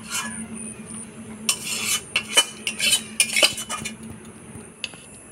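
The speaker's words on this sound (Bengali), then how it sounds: "এবার গরম মশলার গুঁড়া দিয়ে নাড়াচাড়া করে নামাই দেব।" A spoon stirs mutton curry in a pot after garam masala powder goes in, making a burst of metallic clinks and scrapes against the pot over a quiet background.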